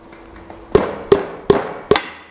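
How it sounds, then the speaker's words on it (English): A soft face mallet taps a bottom bracket axle home during a Shimano external threaded bottom bracket install, giving four sharp, evenly spaced knocks, close and clear with short ringing decay and no talk. "Make sure it's tapped all the way home with your soft face mallet."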